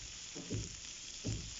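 Pork fries in a pan, a quiet sizzle broken by two brief bursts of clattering stirring.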